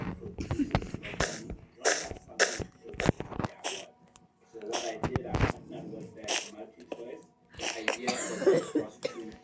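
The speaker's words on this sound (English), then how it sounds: "Stop coughing." Someone coughs repeatedly indoors, several sharp bursts scattered among casual chatter, with a voice and other people talking close by.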